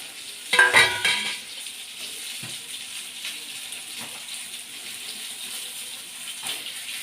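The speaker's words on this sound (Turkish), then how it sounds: "Balığımı da kızartayım arkadaşlar." A brief burst of sizzling and crackling as fish hits hot oil in a pan, then a quieter steady sizzle with a few small clatters.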